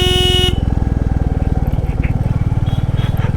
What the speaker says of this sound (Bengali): মোটরসাইকেল আসতেছে 2টা 3টা 4টা 5টা 6টা 7টা।